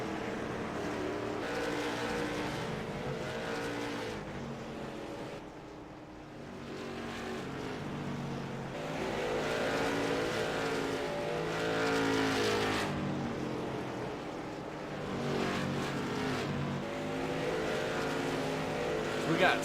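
Race cars on a track roar past with layered engine drone that swells and fades as they pass, with a voice talking over the noise.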